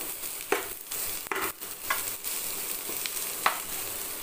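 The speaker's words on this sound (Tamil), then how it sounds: "கொஞ்ச நேரம் அப்படியே வதங்கட்டும் தக்காளி" Tomatoes sautéing in a pan with ridge gourd to follow: a steady close sizzle with intermittent scraping stirs and soft clatters from a utensil, no talking.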